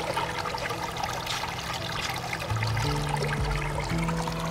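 A small waterfall trickles along a forest trail at Village Creek, a steady, close rush of splashing water filling the background without talking.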